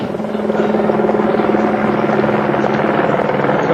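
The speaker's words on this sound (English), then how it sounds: "The helicopter guides him to the exact spot." A helicopter's rotor thumps in a loud, steady rapid chop, close and continuous throughout.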